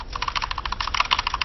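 Rapid keyboard clicks rattle off in dense bursts during a ZvZ StarCraft coaching session, a player hammering away steadily and close, with no talking.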